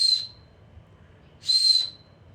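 Safety whistle built into a fire flute survival tool, blown in two short shrill high-pitched blasts separated by about a second of quiet room noise.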